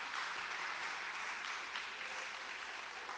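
Congregation applauding in a church after a sermon, a steady, dense wash of many hands clapping throughout, moderately distant and even in level.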